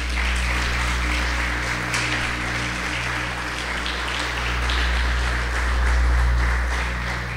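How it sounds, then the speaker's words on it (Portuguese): Church congregation in Brazil claps during a sermon, a broad steady patter of hands over a constant low hum from the sound system, sustained throughout. "Pode aplaudir, Senhor."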